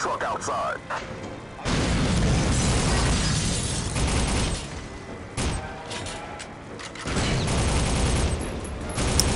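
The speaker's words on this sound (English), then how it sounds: "So here I'm trying to throw a grenade into the sniper nests" Grenade and gunfire blasts in the video game Soldier of Fortune, with repeated booming bursts and crackling fire rolling through a loud, busy mix of game sound.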